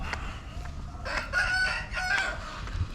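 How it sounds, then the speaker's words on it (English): A rooster crows from a moderate distance in Phuket, Thailand, with other chickens clucking faintly around it, over a steady background hum. "Chickens all over."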